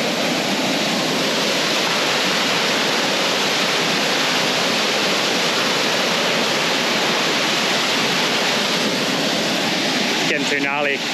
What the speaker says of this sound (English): Now that's our waterfall.